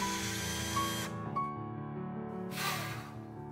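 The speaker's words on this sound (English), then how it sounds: "Again, drill about 1/2 inch down, this time into the bottom of each bed post." Power drill boring about half an inch into the bottom of a wooden bed post on a cat bunk bed, a steady whirring drone with two brief higher bursts, close and alone.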